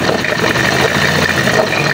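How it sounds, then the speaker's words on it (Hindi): A Honda CD 70 motorcycle engine runs close up with a steady, even idle, its continuous mechanical hum and rattle filling the short stretch alone. "जब ये आवाज़ बाइक करती है तो यूँ समझ लें आपकी बाइक का ऑयल पंप काम कर रहा है"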